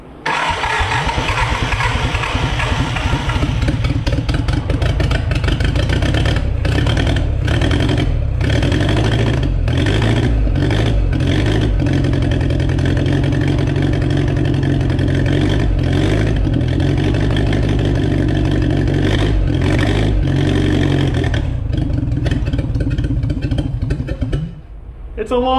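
An old, once-dead Willys Jeep engine runs after being revived, roaring loudly and close with uneven revs and sputters for over twenty seconds before dipping near the end, with voices occasionally audible over it.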